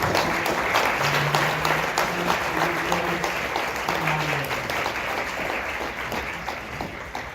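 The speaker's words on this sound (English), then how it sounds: "Can I just get another round of applause?" An audience at a talk on human dignity breaks into steady, moderately loud applause that continues evenly throughout, with faint voices murmuring underneath.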